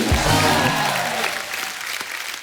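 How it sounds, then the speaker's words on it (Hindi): A studio audience at a comedy show claps loudly and steadily, the applause slowly thinning out toward the end. "जोरदार तालियां हो जाए"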